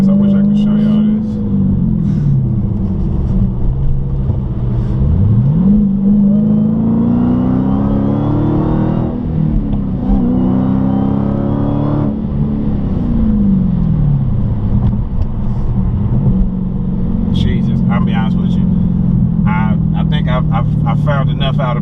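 Manual Dodge Hellcat accelerating hard through the gears, a loud, deep engine roar heard from inside that rises in pitch, drops at each shift and climbs again, with a voice talking over it near the end.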